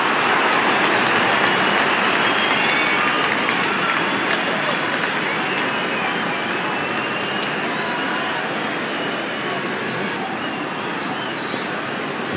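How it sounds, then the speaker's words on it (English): Crowd cheering in the cricket video game Real Cricket 22 during an India versus New Zealand match, a dense, steady roar of stadium noise that holds for the whole stretch with no talk over it. "Crowd is enjoying every bit of this action."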